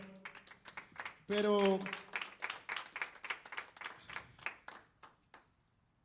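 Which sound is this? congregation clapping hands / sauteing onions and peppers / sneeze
congregation clapping hands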